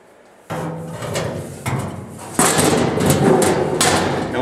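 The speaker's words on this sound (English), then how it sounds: "we're ready to install the grease pan." A metal grease pan is slid into place in a grill during assembly, giving a few close clattering metal knocks and scrapes, then a louder sustained rattle and rumble of sheet metal.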